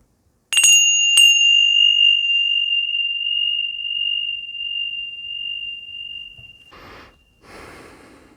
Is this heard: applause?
no